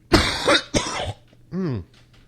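Two harsh, loud coughs in quick succession, followed by a short voiced throat sound, close to the listener.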